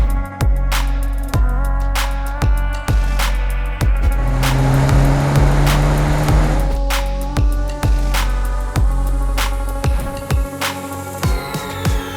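A BMW M4 with 425 horsepower launches and accelerates hard, its loud engine rising through repeated quick paddle upshifts, each marked by a sharp break in the roar, heard close from inside the car.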